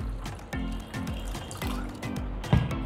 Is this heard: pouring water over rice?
yes